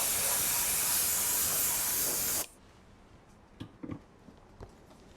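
Yellow spray paint hissing onto a Kyosho Beetle 2014 RC car body, a loud continuous spray burst lasting about two and a half seconds, then cut off, followed by a few soft knocks and handling sounds.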